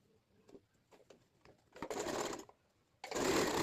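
An electronic sewing machine stitches scraps of fabric in two loud runs, a longer burst followed by a short pause and then another, with light clicks and handling sounds leading into the first run.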